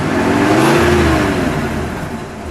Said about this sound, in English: Paul, you're actually going to have to give it a better rev than that, or I want to hear it.